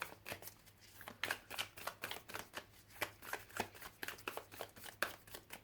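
Tarot cards being handled and drawn from a deck during a reading: a quick run of close, crisp papery slides and flicks in a steady rhythm, soft overall, with no voice over it.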